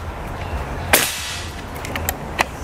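A single sharp crack from a Ruger Black Army PCP air rifle with magazine, fired once near the microphone, followed by a few fainter clicks over low background hum.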